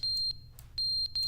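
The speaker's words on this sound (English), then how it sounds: "Okay, that's the smoke alarm." A smoke alarm emits a series of shrill, piercing electronic beeps in a quick, uneven rhythm, loud and close, heard alone with a low hum beneath.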